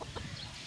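Fighting roosters give a few short, soft clucks close by in a brief, quiet burst, with no talk.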